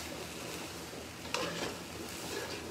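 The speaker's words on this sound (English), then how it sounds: "Alright, so we're gonna let this cook. Let's stir it around." Étouffée cooking in a pot gives a close, steady sizzle and bubbling while it is stirred, with one brief clink of the spoon partway through; no one speaks.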